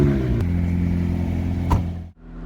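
A McLaren 600LT Spider's engine drones steadily on a drive, holding a constant loud note with harmonic layers, a sharp click partway through, and a sudden dip near the end.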